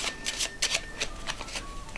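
Rapid, crisp riffling of playing cards in quick bursts, close up, with flutters and soft clicks repeating steadily.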